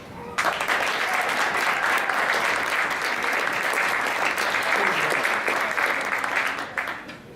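An audience at a talk on wine claps to welcome a speaker, a loud, dense burst of applause that holds steady for about seven seconds before tapering off.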